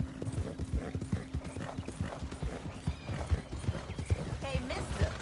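Horse hooves clip-clopping in Red Dead Redemption 2, a steady rhythmic trot of close, dull thuds running throughout with a faint steady hum behind and brief speech in places.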